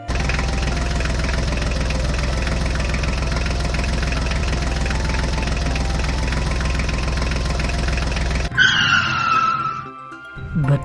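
Mahindra and Ford tractor engines idle in a steady, loud, low rumble for about eight seconds, then cut off abruptly, leaving quieter outdoor sounds and brief chirps.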